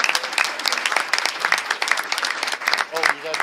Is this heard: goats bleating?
no